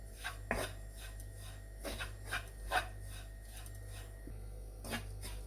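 Wheat flour is stirred and roasted in a pan over a medium-low flame for gond laddus: soft, repeated rubbing scrapes of a spatula at an uneven rhythm over a steady low hum, close and fairly quiet.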